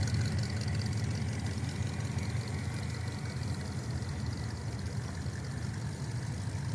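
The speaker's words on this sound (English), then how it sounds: "Oh, Chevy sounds stout." A Chevy car engine runs steadily at a hot rod car show in Broken Bow, Oklahoma, its deep, loud idle rumble holding close and continuous with no speech over it.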